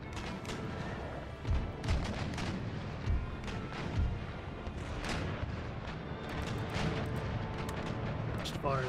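Naval cannons firing in the Empire Total War video game, a series of deep booms and rumbling blasts scattered over several seconds, with a voice talking over the barrage.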